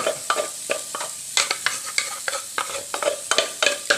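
Curry paste stir-fried in a little oil in a pan while making a beef-skin curry: repeated scraping strokes of a spatula over a steady sizzle, close and loud, with no talking.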